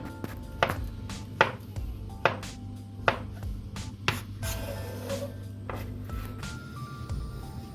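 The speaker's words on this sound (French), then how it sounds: "on va couper en petits morceaux" A knife chops food into small pieces on a cutting board for a chocolate mousse with crumble and banana dessert: crisp, evenly spaced strikes about every three-quarters of a second, close and fairly quiet, with no talking.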